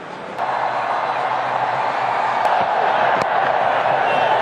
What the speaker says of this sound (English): A very healthy crowd in all.